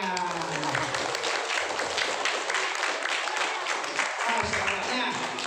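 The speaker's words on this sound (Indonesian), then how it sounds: "Alhamdulillah, tepuk tangan" A crowd at a Maulid Nabi gathering claps in scattered, uneven rhythm, fairly close, while voices carry on over and through the applause for several seconds.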